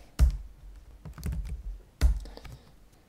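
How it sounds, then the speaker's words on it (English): A computer keyboard clatters in two short bursts of typing, the keystrokes close and crisp as a chat message is entered, with no voices. "Now let's see what happens when we type a response."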